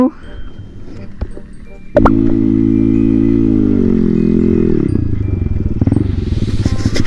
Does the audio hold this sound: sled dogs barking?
no